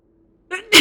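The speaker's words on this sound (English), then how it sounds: "I have to sneeze." A single sharp sneeze from a person bursts out at the very end, loud and close, after a brief indrawn breath and a short voiced lead-in.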